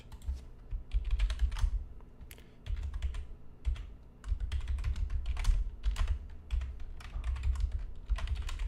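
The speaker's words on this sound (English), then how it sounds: "I'm just typing that out as an alert in our Discord" Rapid bursts of typing on a computer keyboard, keys clattering in irregular runs with brief pauses, close and fairly quiet, with no voices.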